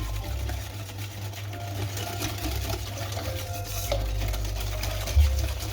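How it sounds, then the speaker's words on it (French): Honey and sugar are mixed with warm milk and butter, a steady churning whir with a low hum running throughout, continuous and fairly close, rising slightly near the end. "On va mélanger du miel avec du sucre, c'est quand même pas ce qui est le plus facile."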